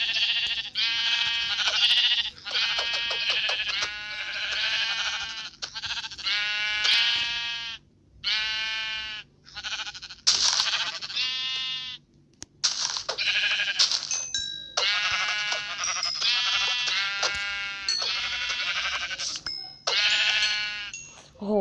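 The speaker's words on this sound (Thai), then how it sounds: "วันนี้ตีแกะมันนะ" Sheep in the Minecraft video game bleat repeatedly while being hit, a rapid string of close, loud bleats in bursts over about twenty seconds with brief pauses between.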